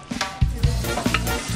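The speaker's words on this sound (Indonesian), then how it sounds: "Tumis bumbu sampai harum" Spices sauté in a hot pan with a close, steady sizzle, broken by several soft thumps of stirring at an irregular pace.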